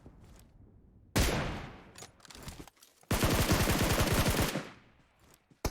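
Gunfire in PUBG Mobile, with two loud close bursts: a short volley, then a longer rapid automatic string of evenly spaced shots, separated by a few quieter single shots.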